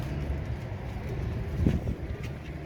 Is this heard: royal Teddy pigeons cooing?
yes